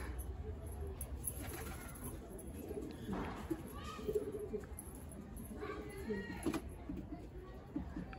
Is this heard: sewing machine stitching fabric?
no